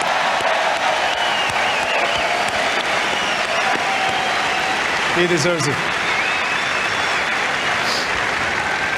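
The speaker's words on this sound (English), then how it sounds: "Let's give him a big round of applause to Roger" Audience applause for tennis player Roger Federer at the Australian Open, a steady crowd roar held across the whole stretch while someone speaks over it.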